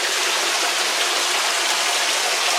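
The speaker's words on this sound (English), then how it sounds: "we got that fountain going, this fountain's going" Steady splashing of water from a decorative fountain with a spout shaped like a figure's mouth, set up among haunted tents, a continuous close broadband rush without pauses.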